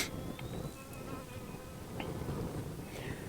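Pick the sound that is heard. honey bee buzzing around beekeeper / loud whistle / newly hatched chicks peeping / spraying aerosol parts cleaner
honey bee buzzing around beekeeper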